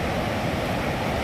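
Waterfall at Datam Patam in Latehar, a steady, dense roar of rushing water that is loud and close, heard alone without any voices.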